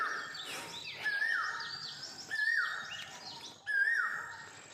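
Asian koel calling in a forest: three rising whistled notes repeat at a steady spacing, moderately loud against a bed of other birdsong and insect chatter, with no talking.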